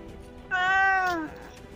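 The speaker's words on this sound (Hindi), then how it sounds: "यहाँ पर एक बिल्ली, बस ये तो म्याऊं म्याऊं कर" A single clear cat meow, about three-quarters of a second long, close to the microphone over quiet background, with a tonal cry that bends downward at the end.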